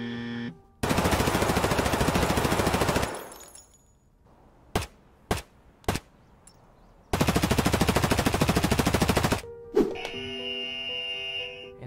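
An MP5 submachine gun fires two long sustained bursts, loud and close, separated by a few single sharp shots, with a faint ringing tone at the end.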